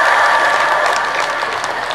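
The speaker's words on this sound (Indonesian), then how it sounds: "Berikan tepuk tangan langsung." Loud, close applause fills a hall at a prize-giving night for a local Safar bathing festival, a thick continuous roar of many hands clapping together, steady and unbroken for its short duration.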